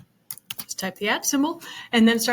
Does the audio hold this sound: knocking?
no